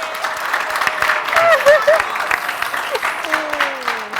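Studio audience applause on a New Year's TV game show, steady clapping running throughout with voices and cheerful whoops rising over it midway and a voice speaking near the end.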